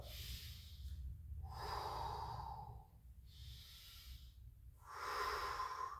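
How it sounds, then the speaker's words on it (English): Forceful breathing: deep, rushing inhales alternate with strong blown-out exhales in a slow rhythm, about two full cycles, close and fairly quiet. "So you're breathing it all in, and you're blowing all the air out."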